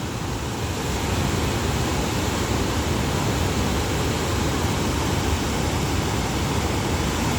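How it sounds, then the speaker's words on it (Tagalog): Steady, dense roar of heavy rain blending with a fast-rushing flooded river, loud and continuous throughout with no pauses or voices. "Ay lakas ng ulan, lakas ng agos."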